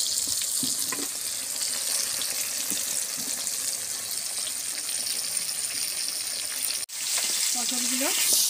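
Pointed gourd (potol) slices frying in hot oil, a steady broadband sizzle that runs continuously for several seconds with a brief dip near the end, nearby and fairly loud, with faint clinks from a utensil.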